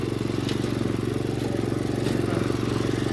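A small Murray riding mower engine running at a steady, loud, close idle, with a rapid, even putter throughout and no talk.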